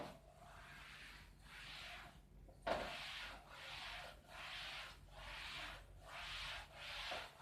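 A duster rubs writing off a classroom board in repeated rhythmic strokes, about six scrubbing passes with brief pauses between and one sharp knock partway through, close and fairly quiet.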